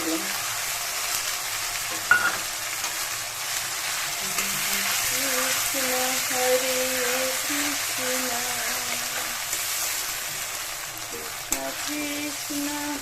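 Cubed tomatoes sizzling steadily as they fry in a pan, a close, continuous crackle with a couple of sharp clanks from stirring and a faint tonal hum underneath.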